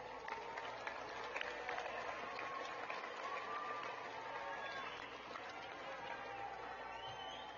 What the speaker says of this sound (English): Now, please give them a round of applause.